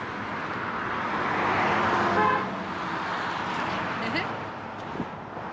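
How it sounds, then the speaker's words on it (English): Car horn honking on a downtown street near an old service station: a few short honks over steady traffic noise, moderately close, with a person speaking nearby. "Somebody honking at my wife."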